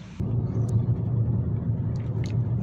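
A car's engine and tyre rumble drone steadily from inside the cabin on a road test drive to check an ABS warning light, a low continuous hum with a few faint high ticks and no talk.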